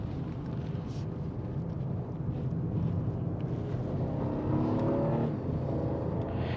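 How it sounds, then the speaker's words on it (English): A BMW 2 Series Gran Coupe engine drones steadily from inside the cabin while driving, with road rumble beneath and a brief rise in revs near the end. "it's just that engine note I'm a bit disappointed with"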